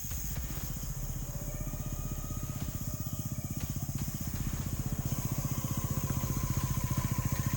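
A motorcycle engine idles steadily after the bike has stopped, a low rhythmic mechanical putter that holds close and constant throughout, growing slightly louder toward the end.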